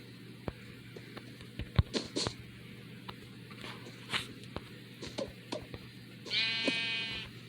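Minecraft Bedrock Edition sheep bleating in a few short calls spread across the clip, with one longer, louder bleat near the end, over light game footsteps and clicks.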